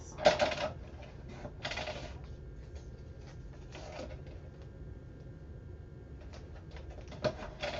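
Paper for a pocket folio is cut on a trimmer, with a few quick sliding, scraping strokes and clicks at close range over a quiet background.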